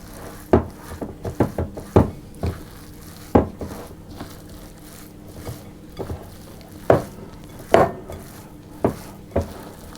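A spoon scrapes and knocks against a bowl while oats and almond butter are mixed for no-bake bars, a series of irregular close clinks and thuds with quiet rubbing between them.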